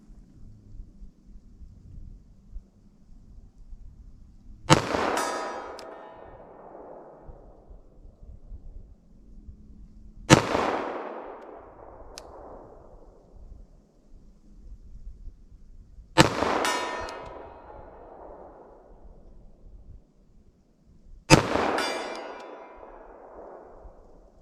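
.45 ACP Winchester Silvertip pistol gunshots outdoors: four loud, sharp single shots spaced roughly five seconds apart, each cracking suddenly and trailing off in a rumbling echo, with quiet low background noise between them.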